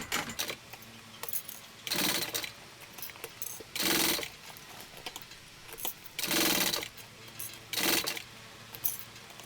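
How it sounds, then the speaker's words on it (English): A domestic sewing machine stitches a zipper onto a fabric shoulder bag in several loud, close bursts of rapid mechanical whirring, separated by short pauses with faint clicks and handling. "this is where you're sewing your zipper to your bag"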